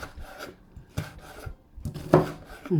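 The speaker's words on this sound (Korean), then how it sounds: "고추도 꼭지를 잘라서. 그럼 자르고. 그다음에 이것도 또 이제 이렇게 어슷어슷." Knife cutting red chili peppers diagonally on a board at home, several crisp chopping taps and rasping slices in an irregular rhythm, close and clear, with no talking.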